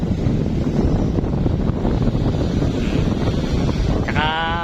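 Strong wind roars and buffets the microphone continuously, with a brief high bleating or whining sound near the end.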